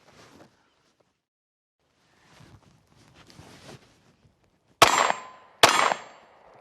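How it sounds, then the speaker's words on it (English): Two sharp, loud reports from a pistol fired one-handed with the strong hand only, about a second apart, follow a few seconds of quiet with faint shuffling. "So let's do it live fire and show you how it works."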